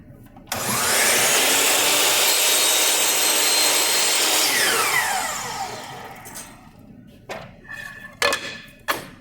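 A mitre saw cuts through a wooden picture frame piece, a loud sustained whining buzz that swells and then winds down over several seconds, followed by a few light knocks and handling clatter.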